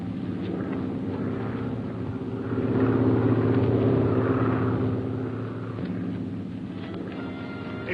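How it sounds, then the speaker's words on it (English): A radio-drama sound effect of an airplane circling to land: a steady engine drone and rumble that swells in the middle and then eases off, heard alone. "A plane is circling to land."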